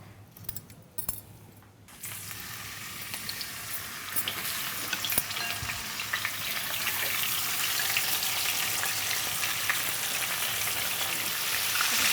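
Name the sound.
rohu fish frying in oil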